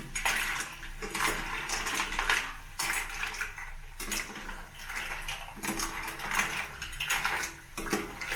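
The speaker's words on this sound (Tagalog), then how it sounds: "Tapos, pagkalagay, haluin ng konti." Mussel soup being stirred in a cooking pot, with repeated clinking and scraping of a utensil against the pot in steady bursts, close and fairly loud, no talking.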